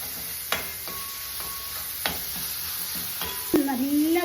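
Tomato, green chillies and curry leaves sautéing in a pan for a Kerala clam fry, with a steady low sizzle, a few sharp clinks of a spoon stirring against the pan, and a brief louder sizzle near the end.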